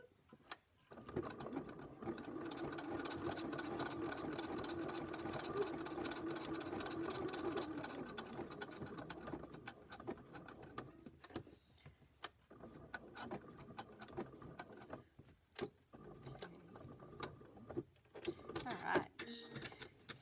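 A sewing machine stitches a pocket with three hearts onto a zipper purse, a close, steady whirring run of about seven seconds followed by shorter stop-start bursts and handling clicks, with a person talking in between.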